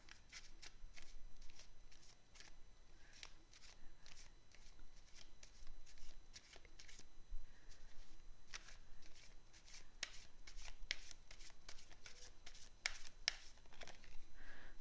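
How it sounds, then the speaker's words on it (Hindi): Tarot cards are shuffled by hand in repeated crisp riffling bursts, close and quiet, with soft papery flicks continuing steadily and no talking. "टैरो से देख लेते हैं।"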